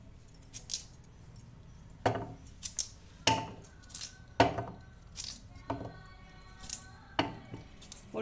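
A metal blade being fitted into a plastic vegetable slicer: a series of sharp clicks and metallic clinks, about a dozen spaced irregularly, close and fairly crisp against a quiet background.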